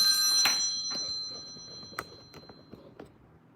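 A telephone rings with an incoming call, a bright ringing tone at the start that fades out, followed by a few soft clicks and taps in a quiet room.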